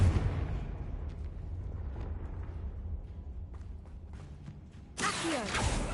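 A fiery Confringo blast spell from the Hogwarts Mystery video game erupts in a loud, rumbling explosion with whooshing bursts, followed by a sharp bright crackle of magic near the end.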